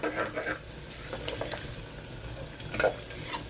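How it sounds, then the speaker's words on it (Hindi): Onions frying in a pan, browning for tinde gosht, a moderate continuous sizzle broken by repeated spoon scrapes and stirring strokes, with no speech. "इसको हम ब्राउन कर लेते हैं प्याज को पहले।"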